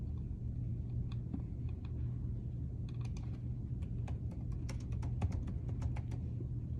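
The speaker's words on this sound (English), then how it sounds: "I'm typing here." Computer keyboard typing in irregular bursts of light clicks, close and fairly quiet, over a steady low hum of room or machine noise.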